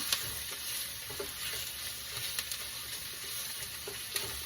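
Garlic sizzles gently as it toasts in a pan, a steady soft frying hiss with occasional faint taps of a utensil moving it around, quiet and close, with no talking.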